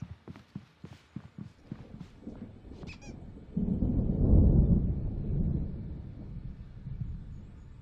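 Thunder from an approaching storm in the Alan Wake video game: a low, deep rumble swells up and rolls on for several seconds, following a run of quick clopping steps.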